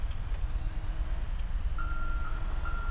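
A truck reversing alarm in GTA 5 beeps in a steady, evenly spaced series of short tones over a low, rumbling idling engine, moderately loud and without talk.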